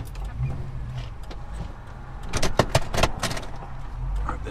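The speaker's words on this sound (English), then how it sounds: "Oh, there's a car coming." A car approaches on a nearby road while an engine runs in the foreground, its rushing sound swelling through the middle of the clip over the steady low rumble, with no talking.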